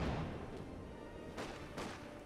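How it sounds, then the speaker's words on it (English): British artillery firing in the video game Company of Heroes 2: a low rumbling barrage with two distinct booms standing out, fairly faint and distant. "We have British artillery coming on in"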